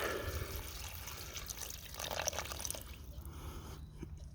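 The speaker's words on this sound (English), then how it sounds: "Add some more water." Water poured into a camp cooking pot with noodles over an open campfire at deer camp, a soft, steady trickle and splash lasting several seconds at low volume, with no talking.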